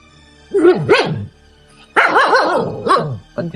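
A dog barks in two close bursts of several yelping barks each, loud and near, with short quiet pauses between the bursts and no voices over them.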